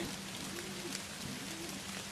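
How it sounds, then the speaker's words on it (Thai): Rain falling in the Sakura School Simulator game, a steady soft hiss of drops on surfaces, constant and quiet throughout with no speech. "ฝนตกจริงๆด้วย ไม่ได้เอาร่มมาด้วยสิ"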